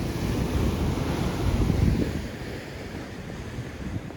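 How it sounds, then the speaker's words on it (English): Ocean waves break and wash continuously along a Santa Cruz beach near tide pools, a steady broad roar with wind buffeting the microphone, slightly louder surges early then settling, no voices. "Definitely got to watch the waves"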